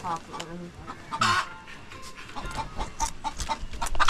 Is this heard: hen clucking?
yes